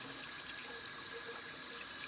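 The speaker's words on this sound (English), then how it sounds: "So what I'm doing first is I'm just going to wash them." Green tomatoes being rinsed under a running kitchen tap, a steady close hiss and patter of water that fills the short stretch alone with no talk.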